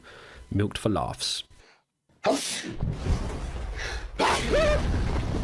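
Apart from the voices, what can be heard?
sneeze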